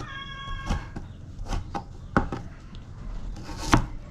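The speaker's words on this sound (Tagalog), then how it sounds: "Slice na tayo ng bawang mga ka-channel para makapagluto na ng ulam." Garlic sliced with a knife on a cutting board, heard as a series of sharp, irregular chopping knocks at close range, about six distinct strikes over a few seconds, with no talk.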